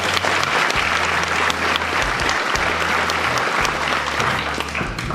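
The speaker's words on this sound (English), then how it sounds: "So let's have a round of applause." An audience at a 2015 high school graduation ceremony gives sustained, loud applause that stays full and steady throughout, with a low musical tone sounding beneath the clapping.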